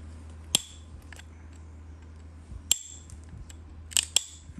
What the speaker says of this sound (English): Man, listen to that thing ring.